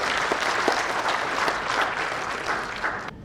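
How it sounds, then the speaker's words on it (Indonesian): An audience at a government procurement forum claps together in a sustained, even burst of many hands, fairly loud and continuous before tapering off at the very end. "Tepuk tangan dulu, Pak."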